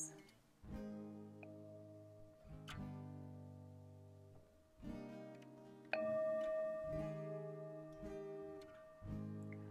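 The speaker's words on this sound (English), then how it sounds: "by using the singing bowl." A singing bowl is struck repeatedly in a quiet restorative yoga session, each strike ringing with a long sustained tone, soft and close, with several overlapping rings and no talk over them.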